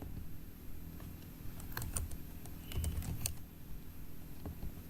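Quiet, scattered clicks of typing on a computer keyboard come in short bursts over a low background hum, fairly close but faint.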